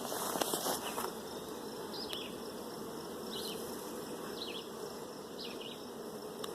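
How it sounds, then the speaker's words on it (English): Honey bees swarming make a faint, steady buzzing hum. A few individual bees drone past close by against a quiet background. "And so what happens when bees swarm?"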